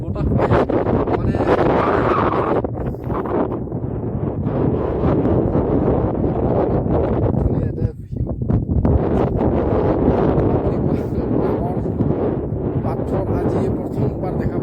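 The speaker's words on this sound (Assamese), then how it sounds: "ৰ'দৰ মাজতো ইমান বতাহ পায়" Strong wind sweeps across a sunny hilltop at Barali Para in Meghalaya, roaring and buffeting the microphone in loud, continuous gusts with a brief lull midway and voices faintly beneath.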